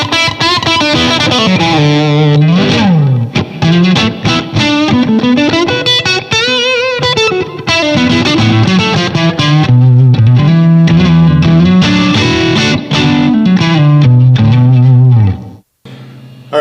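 An electric guitar plays through an OCD overdrive pedal into a Blackstar Amped 1 pedalboard amp set to KT88 tube simulation, with reverb and a compressor. The playing is loud and sustained, with melodic phrases that drop out briefly near the end.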